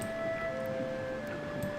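A siren in the video game Ben Jordan, a steady sustained electronic tone held at a fairly low level with a faint hum beneath it, alone with no speech.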